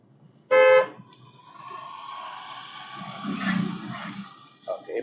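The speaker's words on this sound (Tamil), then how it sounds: "ஹார்ன்." A car horn gives one short, loud honk during a driving lesson on handling speed bumps, followed by a softer background of engine and road noise.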